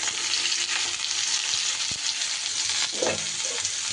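Pumpkin and potato pieces are stir-fried in a pan for a drumstick curry, a loud continuous sizzle with an occasional scrape of stirring, close and without talk.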